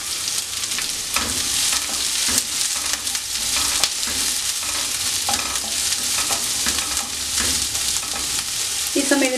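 A large sliced onion sautéing in a pan gives a continuous loud sizzle, broken by frequent scraping strokes of a spoon as it is stirred.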